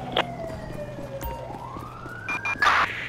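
An emergency vehicle siren wails in Grand Theft Auto, its pitch sliding down and then rising again over a low engine hum, with a few short clicks and game sound effects near the end.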